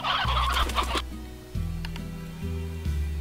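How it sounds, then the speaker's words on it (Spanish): Hens in the video game Slime Rancher cluck close and loud in a quick run of short calls, followed by a few lower clucks spaced apart. "La gallina es una raza especial de pollos criados para servir aquí."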